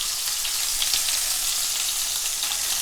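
Chicken pieces with skin frying in a pan, a steady, bright, crackling sizzle heard up close, continuous and unbroken with no talking over it.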